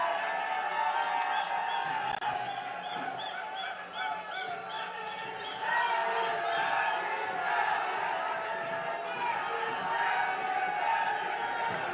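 Crowd at a Haryana political rally cheering and shouting in a dense, steady roar with clapping, voices chanting together at moderate distance throughout.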